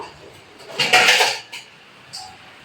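A dish is set over a pot of potatoes boiling with turmeric and salt, giving a short ceramic-on-metal clatter with a brief scrape and a lighter clink just after, close up in a quiet kitchen.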